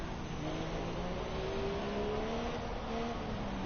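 A Formula 1 race car in the F1 2017 video game revs steadily, its engine note climbing gradually in a continuous, fairly faint drone with no talk over it.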